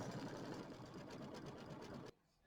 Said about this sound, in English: this is going to be the satin stitching